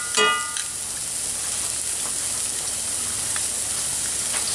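Fresh minced garlic hits hot oil with a brief crackling burst, then settles into a steady, soft sizzle that carries on evenly throughout.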